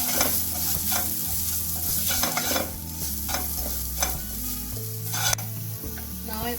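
Dry spices and salt are stirred into a hot frying pan for samosa filling, with a steady sizzle under repeated scraping strokes of a spoon, close and continuous.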